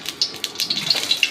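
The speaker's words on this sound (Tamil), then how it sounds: "அடுப்பில் வச்சு எண்ணெய் ஊற்றிக்கோங்க." Oil is poured into a pan on a stove, giving a short, close, splashy liquid stream with bright gurgling bursts.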